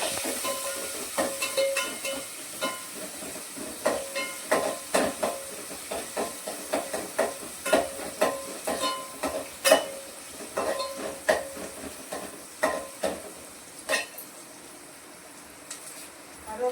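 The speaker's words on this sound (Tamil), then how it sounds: "வெந்தயம் போட்டதுக்கப்புறம் வெங்காயம் போடுறாங்க, நல்லா வதக்குறாங்க" Onions sautéing with fenugreek in a pan for a Tamil fish curry: a constant soft sizzle with frequent rhythmic scrapes and taps of a spatula stirring, close and moderately loud.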